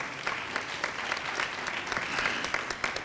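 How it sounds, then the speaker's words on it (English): Applause fills a town hall meeting on domestic violence: a crowd's continuous, moderately loud clapping with scattered sharper claps standing out across three seconds. "Let's give Jonathan a round of applause for his work."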